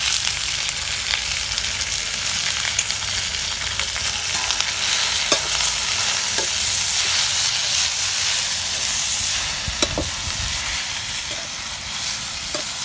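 Brahmi leaves and tomato sautéing in a pan give a steady, close hiss of frying, broken by occasional sharp clicks and scrapes from stirring.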